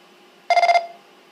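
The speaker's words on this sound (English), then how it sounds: "that's our courtesy tone" Radio repeater courtesy tone on a Quantar P25 repeater: a short electronic warble, about a third of a second, pulsing rapidly over faint background hiss.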